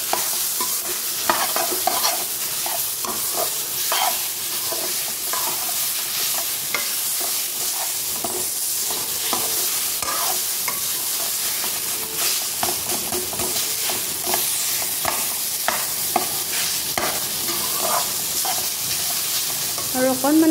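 A fish head fries in a hot pan with a steady sizzle and hiss, punctuated by repeated scraping stirs throughout, with no talking.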